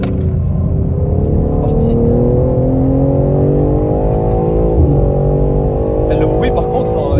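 A BMW M3 Touring accelerating hard on a race track, its engine note climbing steadily and loudly in pitch as it pulls through the revs, with a voice speaking briefly over the roar.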